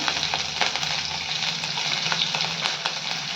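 Mustard seeds and cumin spluttering in hot oil beside roasted peanuts, a steady dense sizzle with frequent sharp pops and crackles, close and continuous.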